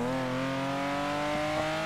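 A new sports car engine in the GTA 5 video game hums in a sustained, loud, tonal drone that climbs slightly in pitch as it revs, with no talk over it.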